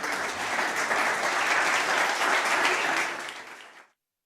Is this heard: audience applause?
yes